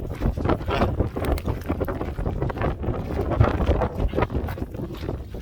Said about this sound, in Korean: 바람 소리 안 들려?